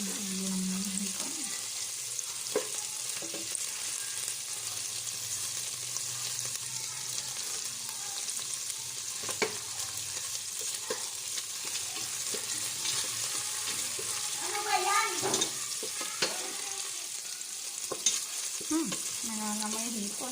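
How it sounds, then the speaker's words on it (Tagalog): Shrimp heads sauté in a hot pan with a continuous close sizzle and occasional stirring scrapes and clinks, brief faint voices in the background. "Para mas lalong lumasa yung isain natin yung ulo ng hipon."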